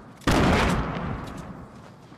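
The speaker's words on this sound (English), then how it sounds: "this guy's shooting me through the floor" A loud, close gunshot burst from the battle royale game Fortnite, fired from below through a floor, cracks sharply and then tails off into a fading, noisy echo.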